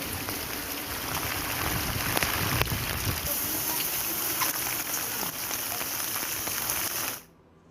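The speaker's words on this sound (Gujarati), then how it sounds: "વિરામ બાદ વરસાદ પડ્યો છે" Heavy rain pours steadily in Mota Asota village, Kalyanpur, Devbhumi Dwarka, a dense, continuous hiss of drops on surfaces lasting several seconds before cutting off abruptly at the end.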